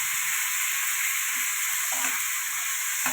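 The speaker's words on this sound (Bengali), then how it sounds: "এগুলো এইভাবে মটরশুঁটি আমি সব ভেজে নেবো।" Green peas fry in a pan for a homestyle masala pasta, a dense, steady frying hiss close by with a faint stir partway through.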